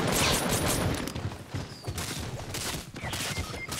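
Rapid crackling bursts of Fortnite gunfire fill the clip, dense overlapping shots at moderate distance with brief dips between volleys.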